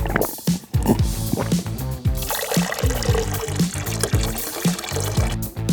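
Cola pours into a glass with a steady liquid gurgle and fizz lasting several seconds, close and fairly clear, over a rhythmic background.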